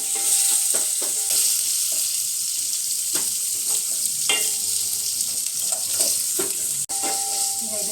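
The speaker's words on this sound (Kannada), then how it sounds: "ಈರುಳ್ಳಿ ಫ್ರೈ ಆಗಿದೆ." Onion, cumin and curry leaves fry in a pan with a steady, close sizzle, broken by scattered clinks and scrapes of a spoon stirring, and one brief dropout near the end.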